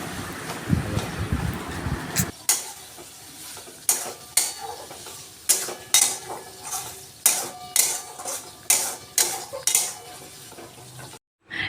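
Spice paste with a whole tomato, Kashmiri chilli powder and green chilli cooks in a pan, giving a soft sizzle under repeated rhythmic scraping and stirring taps of a utensil against the pan.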